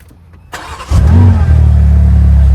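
A car fitted with a Miltech exhaust fires up after a brief click, then settles into a loud, deep, throaty idle that holds steady and close.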